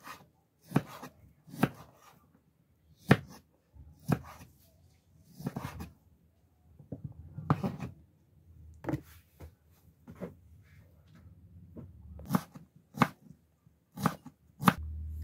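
Tomatoes being sliced with a knife on a board for a fern salad, with about a dozen crisp, separate cuts landing at an uneven rhythm, close and clear between quiet pauses.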